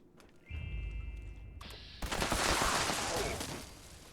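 A V63 laser carbine fires in rapid bursts against super mutants in the Fallout 76 video game, with crackling zaps and impacts layered over a tonal game hum.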